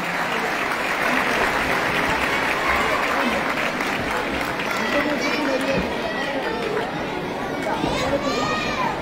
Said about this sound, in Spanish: Les vamos a dar un gran aplauso para darles confianza en esta presentación.